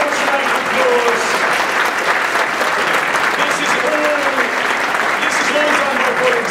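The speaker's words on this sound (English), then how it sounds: "give them an enormous round of applause" Sustained audience applause for event volunteers at a community gathering, a steady dense wash of many hands clapping that fills the room for several seconds, with faint voices mixed in.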